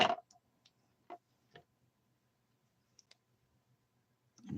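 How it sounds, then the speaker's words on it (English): Scissors snip through craft foil in a few sharp, quiet clicks spaced irregularly over several seconds, close by and with no talking. "now I'm going to snip that off"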